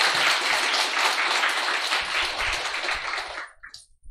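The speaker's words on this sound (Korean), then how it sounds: "뜨거운 박수!" A church congregation at a Sunday service gives a loud, dense burst of applause that fades out near the end, leaving a few scattered claps.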